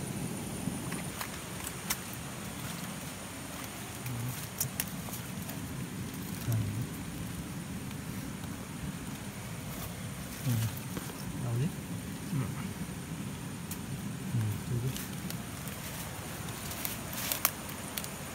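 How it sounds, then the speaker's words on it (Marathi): Heavy rain falls at night on the Konkan coast near Rajapur, out in the open during crab catching, as a steady, dense hiss that runs throughout with a few faint thumps. "आता जोरात पावसाला सुरुवात झालेली आहे"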